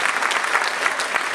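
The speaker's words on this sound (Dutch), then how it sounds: "er mag best een applaus voor gegeven worden" Applause fills the hall at a Hardenberg sports awards ceremony, a dense, steady patter of many hands clapping close by, with no voices rising above it across the short burst.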